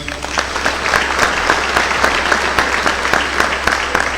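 A crowd at a sports awards ceremony claps steadily and warmly, sustained applause throughout with no break.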